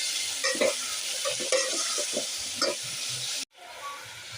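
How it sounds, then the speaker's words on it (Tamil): Potato pieces cooking in a pan for sambar give a steady close sizzle with stirring scrapes, then a sudden brief drop to near silence before the frying noise returns. "உருளைக்கிழங்கு போட்டு ஒரு ரெண்டு நிமிஷம் நல்லா வேக விடுவோம்"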